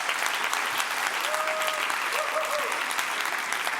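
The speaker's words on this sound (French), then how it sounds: "vous pouvez vous applaudir, dis donc" A theatre audience at a comedy revue applauds steadily, a broad wash of many hands clapping at constant level, with a faint voice briefly audible beneath it.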